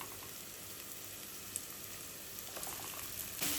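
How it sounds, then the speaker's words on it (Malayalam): Ginger, garlic and green chili sauté in a pan for palak chicken, a soft, steady sizzle with faint stirring scrapes near the end. "ഇഞ്ചി വെളുത്തുള്ളി പച്ചമുളക് ചേർത്ത് കൊടുക്കുന്നുണ്ട് ഒന്ന് വഴറ്റി കൊടുക്കാം"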